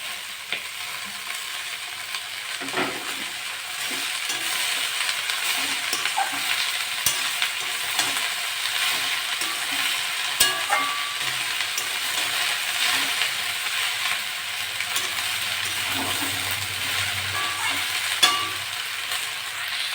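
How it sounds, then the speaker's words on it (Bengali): Shrimp that have already browned are fried with potatoes and kulpi greens in a pan, making a steady, continuous sizzle with occasional stirring scrapes throughout, no voices. "চিংড়ি মাছটা দিয়ে অল্প ভাজা ভাজা হয়ে গেছে, আমি এবার আলু আর শাকগুলো দিয়ে দেবো।"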